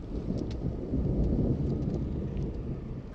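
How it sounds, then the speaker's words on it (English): Thunder from a lightning storm: a long, loud low rumble rolling steadily for several seconds with a few faint crackles above, heard alone with no voices. "The air also rapidly expands and creates a shock wave known as thunder."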